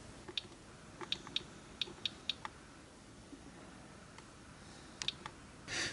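The rubbery keys of an Ericsson A1018s mobile phone are pressed while Tetris is played, making sparse, quiet, dull clicks in small irregular clusters with pauses between them. There is no talking.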